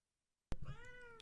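A house cat gives a single drawn-out meow, close and clear, rising then falling in pitch after a moment of silence.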